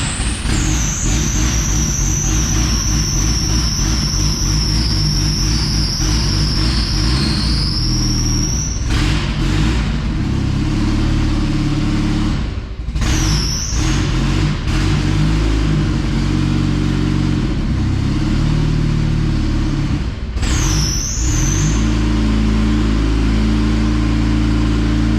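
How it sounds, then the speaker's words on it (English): Turbocharged 1.8-liter Mazda Miata engine runs loud and close, revving in repeated swells with a turbo whine rising and falling across several throttle blips. "Give it a little bit of gas."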